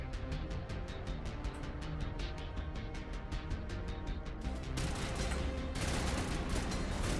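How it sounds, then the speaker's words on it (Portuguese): Gunfire in Mass Effect: Legendary Edition, a rapid run of evenly spaced, sharp automatic shots that then merges into heavier, denser bursts of loud firing near the end. "Quem tá me atirando?"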